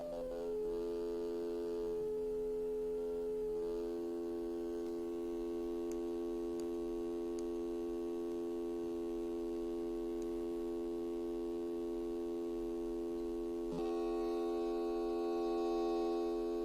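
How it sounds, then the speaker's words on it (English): Synthesizer tones built from sine and other waveforms play as a sustained, steady electronic drone, with a few faint clicks in the middle and a small shift in tone near the end. "This allows you to create synth tones and combine them"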